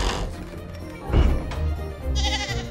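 Animated cartoon sheep gives a loud, wavering bleat while being launched in a dragon-racing show, heard nearly alone over a background music bed with a brief whoosh.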